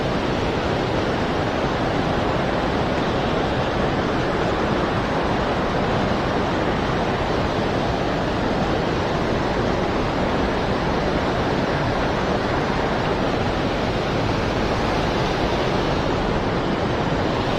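Fast water rushes continuously in the middle of the Fox River, a steady broad roar of current with no pauses or talk.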